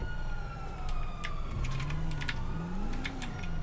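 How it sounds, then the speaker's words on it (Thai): Police siren in GTA V heard as a rising and falling wail at a distance, sitting under loud engine noise and rapid keyboard clicks during a roleplay chase. "ผมยินเสียงหวอไหม"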